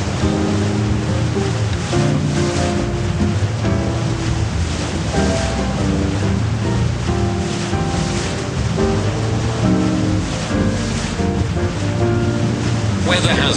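Ocean waves wash around a ship in a ship simulator video game, a steady, loud surge of water and wind with a constant droning tone running underneath for the whole stretch.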